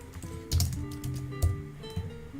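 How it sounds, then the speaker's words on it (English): A few scattered keystrokes on a computer keyboard, close and fairly soft, with two or three louder taps standing out over a faint steady hum; no talking. "Every time I type something"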